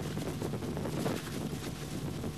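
Gusty wind from an approaching gale roars and buffets continuously, a loud broadband rush with rumbling pressure on the microphone and no voices.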